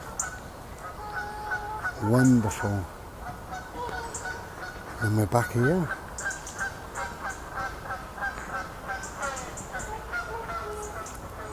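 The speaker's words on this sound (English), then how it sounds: "Oh, noisy old ducks today." Several noisy ducks honk outdoors in a wooded spot with a big old tree, two loud bursts of calling standing out over fainter quacks, with someone talking briefly between them.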